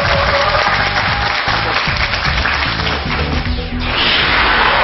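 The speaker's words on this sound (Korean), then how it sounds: "큰 박수 부탁드립니다" A studio audience applauds after a student's presentation on a competition show, the clapping loud and sustained alongside some background music and a brief sweeping effect near the end.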